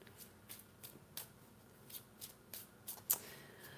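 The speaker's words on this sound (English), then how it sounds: "While I give a little shuffle here." Tarot cards being shuffled by hand in a quiet room: a series of soft, papery riffles at an even pace, roughly every half second, finishing with a slightly sharper snap near the end.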